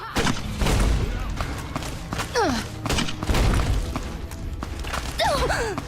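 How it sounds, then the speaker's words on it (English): Grenade rifle fire in Fallout: New Vegas, several heavy booming thumps with blasts and debris in a loud, busy firefight, with a voice speaking and shouting between shots. "So maybe I'll swap over to the grenade rifle."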